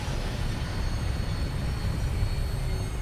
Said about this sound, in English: We're green for takeoff.